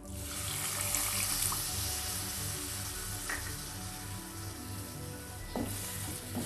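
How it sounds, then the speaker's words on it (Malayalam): Half a cup of vinegar is poured into hot, fried spice masala for tuna fish pickle. It makes a loud, continuous hiss and bubbling sizzle, heard close up with a few clinks and no talk. "ഇനി ഞാൻ ഇതിലേക്ക് 1/2 കപ്പ് വിനാഗിരി കൂടെ ഒഴിച്ചു കൊടുക്കുക."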